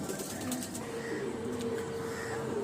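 Pigeons cooing at home, soft low throaty coos repeating steadily against a faint background hum, with no one speaking.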